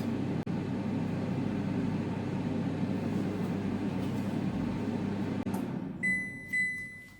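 A Silvercrest digital air fryer, model SHFD A1, runs with a steady fan hum and whir, a couple of sharp clicks breaking in, before the noise drops and a series of high electronic beeps sounds at the end.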